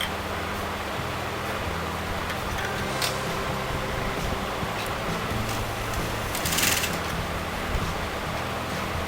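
A sewing machine stitches fabric for a DIY kurta neckline, a steady low mechanical whir running continuously and fairly close throughout with no voices.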